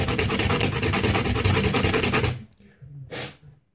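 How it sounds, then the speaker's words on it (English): Sandpaper rubs on a small custom CCBS bone piece in steady, rapid back-and-forth strokes. The scratching is close and fairly quiet, stops briefly, then comes back for one more short stroke. "The sanding part is kind of hard sometimes, because the piece is so small to hold on to."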